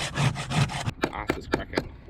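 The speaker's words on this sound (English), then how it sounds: "Ice is cracking." Ice crackling and scraping on a car windshield during an ice storm, heard from inside the car, with a rough rubbing texture at first and then four or five sharp, separate cracks spaced evenly apart.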